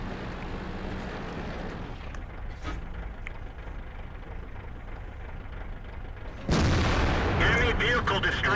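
A T30 tank's heavy gun fires in a video game, one loud booming blast near the end after a stretch of low engine rumble and faint distant battle noise.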